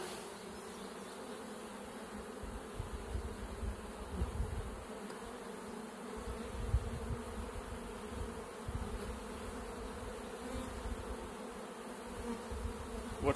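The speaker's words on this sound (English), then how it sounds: "see shaking the bees." Honey bees shaken off hive frames while honey supers are pulled, a dense continuous buzzing swarm close by, steady and droning with slight swells, and no talking.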